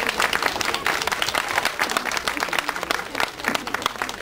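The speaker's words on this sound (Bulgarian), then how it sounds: "искам сега вашите аплодисменти да поздравиме вашите родители" Children and parents at a kindergarten event in Burgas applaud the parents, a lively crowd of clapping with distinct individual claps popping out from the steady applause.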